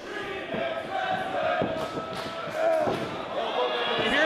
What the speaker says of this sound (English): You hear that Remix Wrestling chant?